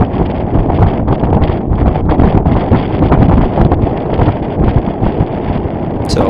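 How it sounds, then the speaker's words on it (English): Strong, rising wind while sailing on a port tack across a lake, with loud, continuous gusty buffeting on the microphone and water rush filling the whole stretch. "wind definitely picking up here."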